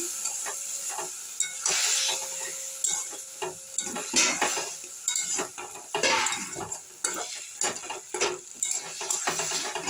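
Thankuni leaf and lentil dumpling curry sizzles in a pan while a utensil stirs and scrapes with irregular clinks, close and steady for the whole stretch, with no talking.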